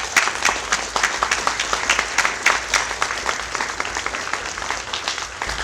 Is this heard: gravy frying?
no